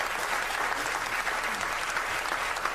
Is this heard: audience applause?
yes